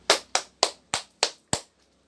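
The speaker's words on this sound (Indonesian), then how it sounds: "Kita aplaus semuanya" Six crisp, evenly spaced claps in a short rhythmic sequence, close and clear, at an Indonesian Christian gathering.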